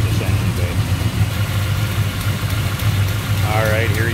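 A 1967 Chevrolet Chevelle with a 454 V8 idles close by, a steady, deep, even rumble that holds at one level throughout, with a faint higher warble near the end.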